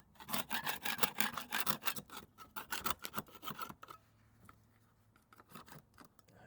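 Metal scraper stripping about a hundred years of old paint layers, repeated in quick rhythmic rasping strokes, close and fairly quiet, then slower scattered scrapes toward the end.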